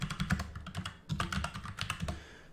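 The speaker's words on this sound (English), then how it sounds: "let's just type in watch free Sling." Rapid, close clicking of keys being pressed on a computer keyboard, a brisk burst of typing with a brief pause midway, no voices.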